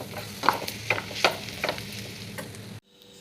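Ivy gourd and grated coconut fry in a pan with cashews and peanuts, giving a soft sizzle with several spatula taps and scrapes before the sound cuts off abruptly.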